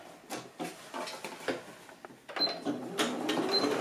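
A sewing machine stitching a fabric pouch, short bursts of rapid mechanical whirring and clicking that start and stop irregularly, fairly close and moderately quiet with no talk.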